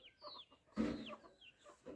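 A village hen clucking close by in short bursts, a few brisk clucks with one louder squawk in the middle, faint chirps around it.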